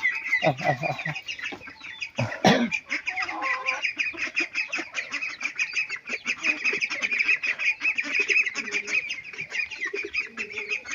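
Local chickens on a small home farm cluck and call all the way through, mixed with duck-like quacking. The sound is close, busy and continuous, with one sharp louder burst early on and no talk over it.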